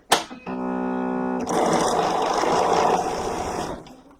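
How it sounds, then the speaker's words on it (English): A sewing machine stitches quilt block pieces together, starting with a short whirring hum that quickly swells into a steady, close mechanical chatter for about two seconds before stopping. "Take it to your machine and sew it."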